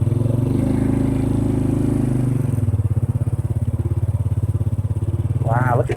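A Honda motorbike engine runs close by at a Thai camping spot, a steady throbbing putter throughout, with a brief voice near the end.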